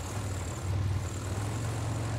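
A propeller airplane engine drones steadily in the video game Far Cry 6, a low continuous hum holding the same level throughout with no voices.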